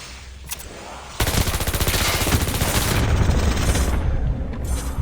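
Rapid automatic fire from a machine pistol in Call of Duty Mobile zombies mode, a loud continuous burst of fast shots that kicks in after about a second and runs to the end, with no talk over it.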